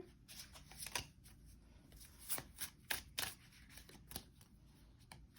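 Deck of tarot cards being shuffled and cards drawn, close and quiet, with crisp riffling flutters and papery slaps in uneven bursts and no talking.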